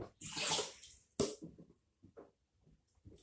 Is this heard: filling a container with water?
yes